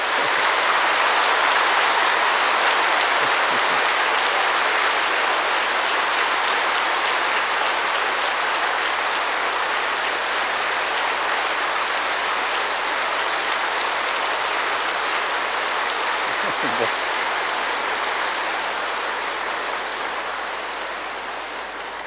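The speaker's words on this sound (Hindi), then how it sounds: "खूब अच्छी तरह से एक बार ताली बजाओ फिर तो" A seated audience at a Brahma Kumaris spiritual class claps together in a loud, steady, dense applause that holds for about twenty seconds before tapering slightly at the end.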